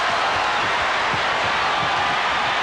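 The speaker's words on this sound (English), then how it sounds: "Crowd urging the home team on." Basketball home crowd cheering on the Houston Rockets during the 1994 NBA Finals Game 6 against the New York Knicks, a steady loud roar of massed voices that stays level and dense throughout.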